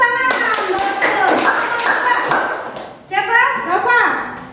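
A school class of eighth-grade pupils claps hands in short bursts, with children's voices and a teacher talking throughout.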